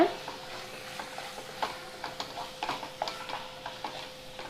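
Masala paste being stirred into chicken in a pan for Pallipalayam chicken, a quiet sizzle under rhythmic scraping strokes of a spoon that repeat every half second or so, close up.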